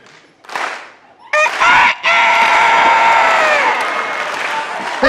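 A man imitates a rooster crowing on a comedy stage, a loud strained voiced call held for several seconds after a short shout, with crowd noise and reactions around it.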